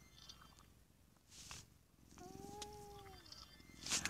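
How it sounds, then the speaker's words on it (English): A pet cat purrs loudly while being stroked, a soft, close rumble with a short rising and falling cry partway through, all fairly quiet. "my cat's so loud right now because I'm petting him so much"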